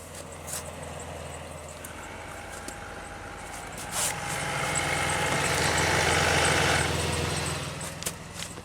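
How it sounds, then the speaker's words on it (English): A Pontiac Aztek's air compressor runs under the hood on a rainy day, a steady mechanical hum and drone beneath the idling engine that swells louder midway, then eases back, with faint clicks scattered through. "By the way, it's the air compressor."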